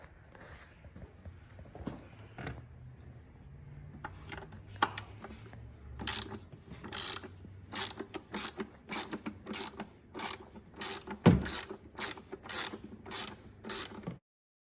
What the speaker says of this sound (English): what you need to get started is an 8mm socket with some extensions